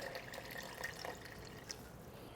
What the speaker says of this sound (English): I'm just gonna cover it with warm water